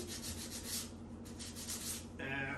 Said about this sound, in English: The only thing we want to do with hand sanding is firstly getting all the rough edges away